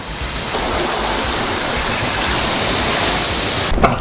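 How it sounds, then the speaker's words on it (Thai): A steady, full hiss of water spraying over a car during a DIY home wash, rinsing off soapy shampoo right after the glass is wiped. The rush runs loud and unbroken for nearly four seconds before cutting off abruptly. "เช็ดกระจกเสร็จปุ๊บล้างน้ำออกทันทีเลยกันพลาด"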